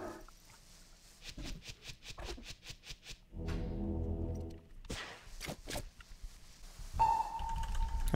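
A video game alert marks an enemy targeted within range during a battleground match, sounding as a series of quick clicks and a sustained low droning tone, then a brief bright tone near the end, all at moderate volume with no talking.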